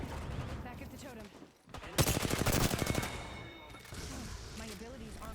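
Rapid bursts of gunfire in the battle royale video game Apex Legends, a loud volley of rattling shots in the middle of the clip with game sounds and talk before and after.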